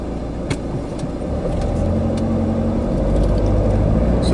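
A car drives along a road toward a 30 mph built-up area, a steady low engine and tyre rumble from inside the cabin that swells slightly, with a few faint clicks.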